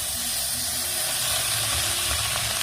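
Washed drumstick flowers (sajne phool) dropped into a hot turmeric-coated pan give a steady, close hiss and sizzle that holds evenly throughout, with no talk over it.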